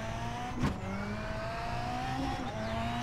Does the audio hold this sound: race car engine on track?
yes